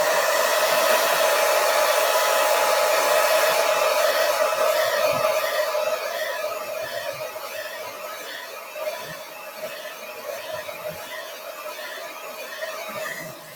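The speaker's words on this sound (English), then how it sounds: "So I am actually going to dry it because I do not want it to, my transfer to fall back on it while it's still wet." Hair dryer blowing steadily to dry a wet chalk paste transfer, a loud continuous whoosh that softens slightly partway through and runs alone without talk.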